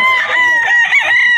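Rooster crowing at a Philippine pet market among backyard-bred chickens, one loud, close, drawn-out crow with a wavering tone that carries through the whole moment.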